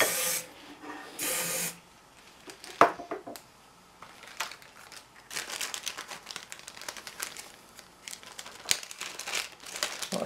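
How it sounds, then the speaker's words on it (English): Short bursts of silicone spray hissing from an aerosol, used inside a Hatsan Gladius air rifle, separated by pauses, with crinkling and handling noises in between. "Put this silicon spray for the inside"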